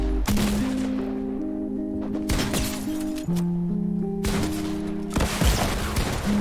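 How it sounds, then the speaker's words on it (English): Several loud pump shotgun blasts burst in close succession in a video game, each a sharp crack with a crashing tail, set over a sustained tonal game soundtrack. "How is he not dead after like four pump shots?"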